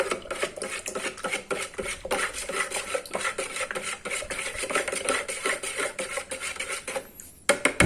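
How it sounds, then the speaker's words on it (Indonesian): Scraping and clinking of a spoon stirring briskly inside a container of pesticide mixture, a steady rhythmic rasp that continues for several seconds. "Kita masukkan dan aduk-aduk."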